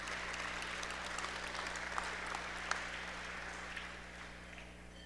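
An audience at an aviation hall of fame induction ceremony claps in a steady, moderately distant round of applause that slowly tapers off, over a faint electrical hum.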